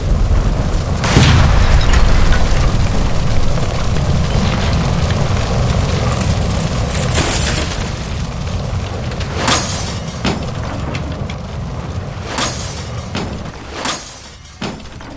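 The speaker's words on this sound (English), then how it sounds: "Shoot the gas line, Cole, we're out of here!" A gas line explodes inside an electroplating plant in the video game L.A. Noire, opening with a loud, heavy boom that rolls into a long rumbling roar, with scattered sharp cracks and debris bursts trailing off.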